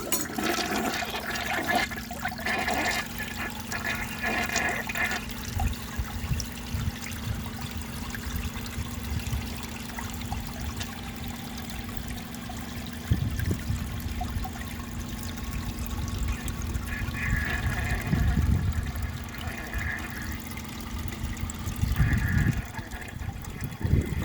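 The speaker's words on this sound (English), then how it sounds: "let's see how it flushes with a clogged siphon jet" A 1957 Kilgore Atlas toilet with a clogged siphon jet flushes with a close, rushing swirl of water, then a long, weak trickle and gurgle as the bowl refills, with occasional thuds.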